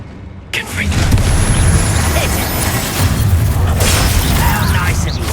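A Confringo blasting spell explodes in the Hogwarts Legacy game, a sudden loud burst that rolls into a sustained rumbling roar with crackling debris and heavy low-end boom lasting several seconds.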